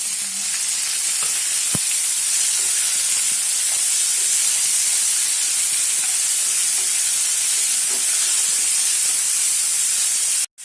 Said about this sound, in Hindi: दालचीनी, लौंग, तेजपत्ता, सब्जियां डालते हैं।